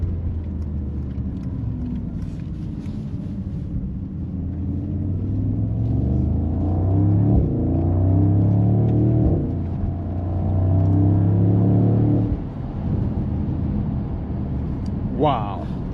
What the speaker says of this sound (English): it is just absolutely brutal exhaust sound